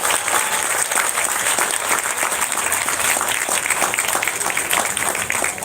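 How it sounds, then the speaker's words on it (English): Steady, dense crowd applause for Miami Dolphins owner Steve Ross at the Super Bowl LIV stadium event, loud and continuous throughout with no break. "Let's give him a big round of applause."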